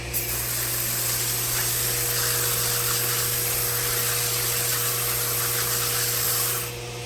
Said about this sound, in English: turn the hose on. And we'll just do it with this little hose right here